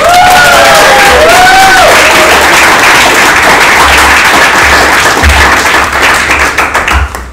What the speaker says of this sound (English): this is the part where you clap really loudly